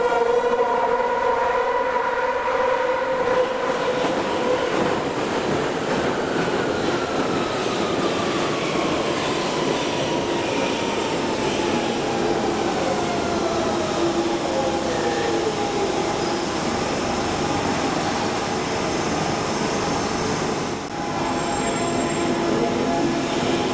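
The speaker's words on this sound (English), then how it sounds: "The next train is in 1 minute for Hainault via Newbury Park." London Underground Central line train arriving at a platform, a loud continuous rumble and screech with a slowly falling whine as it brakes, filling the whole stretch.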